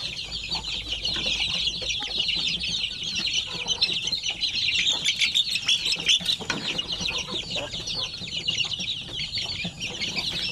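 A crowd of chicks and hens clucks and peeps continuously in a farm coop, with occasional wing flaps in a busy, steady din and no talking.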